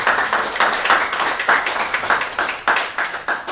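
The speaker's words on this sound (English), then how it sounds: "I think we should all give them a round of applause" Applause from a small audience at a theater board meeting on future financial plans, a steady patter of many hands clapping, fairly close and continuous, swelling in quick waves, with no speech over it.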